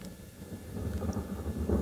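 Low, rolling thunder rumbles steadily from a distance during a safari live stream in the African bush, building slightly toward the end with a faint hiss like light rain.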